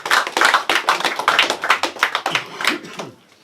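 A rap battle crowd claps and cheers loudly in a dense burst of applause, then fades out over the last half second.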